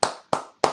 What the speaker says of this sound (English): I'm going to give a clap.